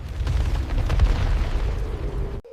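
Deep, rumbling explosions of magical purple fireballs roll on continuously, dense booms layered into a loud, sustained roar before cutting off abruptly.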